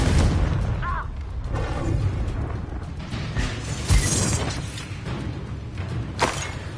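Fiery Confringo spell blasts in a wizard video game, several booming bursts and crackling impacts scattered through a busy mix of game effects, loudest near the middle and end.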